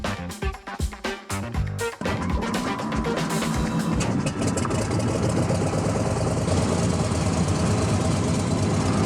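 Pressurized Turbo Cessna 210 engine running on the ground before takeoff, a steady loud droning roar that settles into an even, continuous rumble after a few uneven surges, with no talking.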